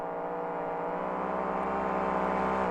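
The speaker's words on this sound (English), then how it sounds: "You hear those two trucks just screaming as they get on the brakes." Racing monster trucks roar in a steady, high-pitched engine drone that stays loud and unbroken throughout.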